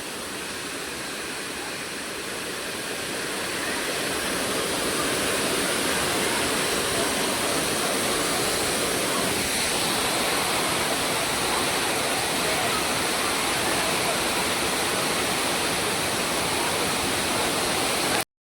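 Constant roaring rush of Savdav waterfall in the Konkan region of Maharashtra, broad and loud, swelling slightly in the first few seconds and then holding steady, with no talking.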